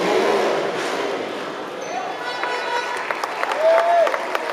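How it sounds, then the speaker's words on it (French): Applause from the audience at an indoor round of the 2012 FIM X-Trial motorcycle World Championship in Strasbourg, a steady wash of clapping that runs throughout under a commentator's voice. "ça mérite quand même un petit peu plus d'applaudissements"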